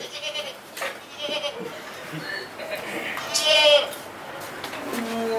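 A goat bleats once, sharp and wavering, during a Hindi stage drama, with people talking around it and scattered background noise.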